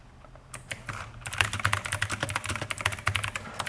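Quick, irregular keystrokes clatter on a nearby computer keyboard as text is typed in, fairly quiet and with no voices.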